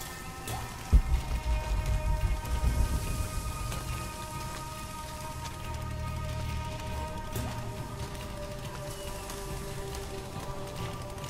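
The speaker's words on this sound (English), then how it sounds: "Rain is unreal." Steady rain pattering on surfaces in Shadow of the Tomb Raider, with a sharp impact near the start and a faint tonal hum running underneath the even downpour.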